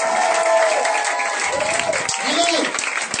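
A church congregation applauds and cheers in praise of Jesus, a dense continuous clapping with voices calling out over it, loud and close.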